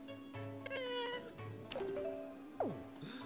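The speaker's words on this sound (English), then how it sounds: "it makes sense why he meows now." A character in The Legend of Zelda: The Wind Waker HD meows several times, clear cat-like calls rising and falling over steady in-game background tones.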